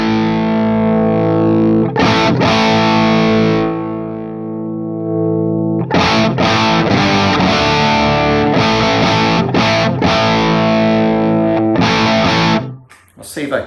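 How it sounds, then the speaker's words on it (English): Electric guitar through a 1977 Marshall JMP amp with Gower Killer Kali mods, pushed into thick power-amp distortion: loud sustained chords and repeated chugging strums with brief gaps, close and upfront. "get some a little bit of power amp distortion there"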